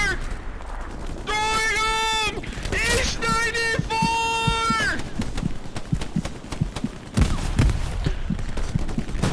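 Gunfire crackles throughout a Hell Let Loose World War II battle on Omaha, with scattered sharp shots and distant bursts under shouting voices and a blaring siren-like tone.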